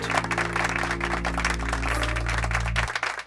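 Slow applause from a gathered group at a hospital event, with dense, steady clapping over a low, sustained hum and no talking.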